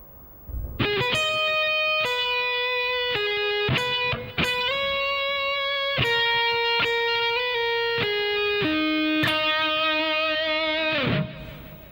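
An electric guitar slowly plays a full distorted lead lick, with sustained notes stepping through slides, hammer-ons and pull-offs, ending on a held note, clear and alone.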